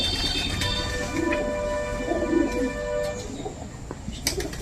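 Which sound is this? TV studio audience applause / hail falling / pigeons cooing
pigeons cooing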